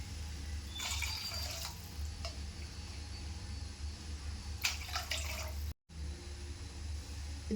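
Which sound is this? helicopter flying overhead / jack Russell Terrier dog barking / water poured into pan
water poured into pan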